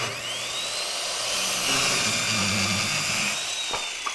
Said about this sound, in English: Morgan, we actually got a 110-volt saw here and an pneumatic air gun.